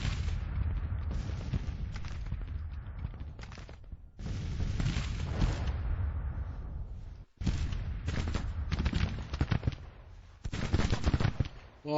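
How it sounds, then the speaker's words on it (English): Artillery guns open fire on a Union infantry position in the Civil War strategy game Grand Tactician, loud rolling bursts of booming cannon and rapid gunfire broken by short silent gaps, with no talking. "West Virginia Brigade, Trey-Boo's guns will open up on that Union infantry position."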